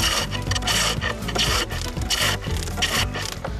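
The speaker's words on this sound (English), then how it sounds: "If you cut, you get nice long shavings." A sharp hand tool cuts long shavings from green wood in a traditional woodcraft setting, giving close, repeated rasping strokes in a steady rhythm with no talk.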